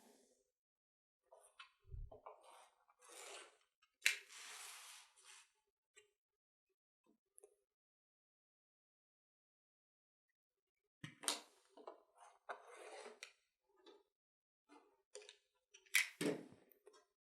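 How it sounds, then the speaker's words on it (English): Scissors cut fabric around a template for a fabric basket, giving quiet, intermittent snips in short clusters, separated by a long pause. "Using my template to cut all the way around."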